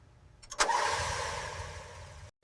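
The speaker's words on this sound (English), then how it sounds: "it fires right up on the very first try" A Toyota Corolla engine under full restoration catches on the first crank with a brief cranking whir, then settles into a steady idle for about two seconds before it cuts off abruptly.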